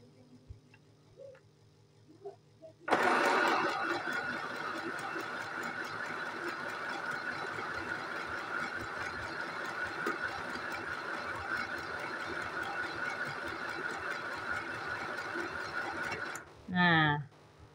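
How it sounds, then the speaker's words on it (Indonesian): An FHSM 505 mini portable sewing machine stitches a buttonhole in a steady, continuous mechanical whir lasting about fourteen seconds, preceded by a few faint clicks and followed by a short burst of voice. "Kita menggunakan mesin mini portable. Mesin mini portable 505."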